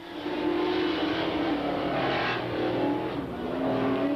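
Super stock race cars roar down the main straightaway at a 1993 Freedom race, a sustained loud engine drone with rising and falling pitch as several cars pass in close succession.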